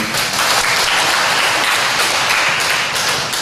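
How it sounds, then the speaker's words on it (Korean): A congregation at a Sunday church service in Jinju applauds, a loud, dense and steady roar of many hands clapping that carries evenly from start to finish. "박수하겠습니다"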